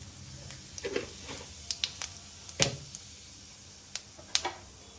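Dried red chilies and cumin seeds hit hot mustard oil, giving soft scattered sizzles and small sharp pops, quiet and close, with no talking.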